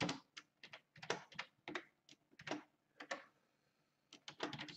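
Someone types code on a computer keyboard, giving quick close clusters of key clicks with short pauses between bursts.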